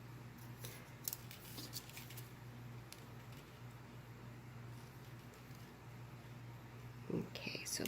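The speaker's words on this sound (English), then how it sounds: "Let's cut it to 3 inches and just get rid of a bit of a tail." Jewelry wire is cut for woven earrings, with a faint snip early on and a sharper clip near the end over a low hum and a soft, quiet voice.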